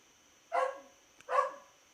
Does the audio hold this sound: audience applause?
no